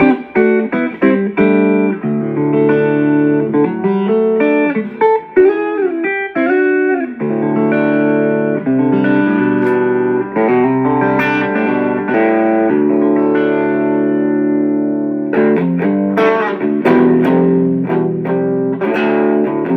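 Fender Stratocaster electric guitar played through effects, sounding as sustained chords and single-note runs with bends, colored by distortion and reverb, loud and up close with no talking.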